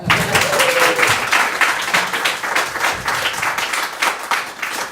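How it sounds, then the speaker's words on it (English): An audience at a kirtan music event claps loudly and continuously, with cheers and whoops mixed into the applause, which stays close and full for nearly five seconds before easing slightly. "Big round of applause"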